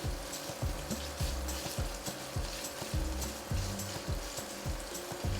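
Lardons fry for a French-inspired beef stew, sizzling steadily in a pan, while a spoon or spatula scrapes and stirs in a quick repeated rhythm, close up and with no talking.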